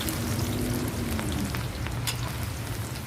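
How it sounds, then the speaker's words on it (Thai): Lemongrass fries in hot oil with a soft, steady crackling sizzle that stays constant and fairly faint, with no talk. "หลังจากนั้นนะคะก็นำตะไคร้มาทอดค่ะ"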